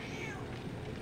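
A cat meows in a single short, faint call nearby, rising slightly over a low background hum, with no talking.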